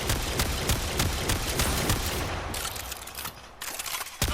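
Rapid shotgun blasts from the Ketchum kit gun fired at a heavy gunner in the game Warframe, a dense run of loud, closely spaced shots for about two seconds, then a brief gap and a few more bursts.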